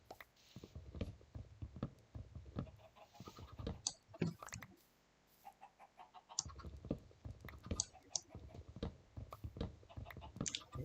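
Chickens cluck in a Minecraft hardcore survival game, short quiet clucks and clicks scattered irregularly with a brief near-silent gap midway; faint voices murmur underneath.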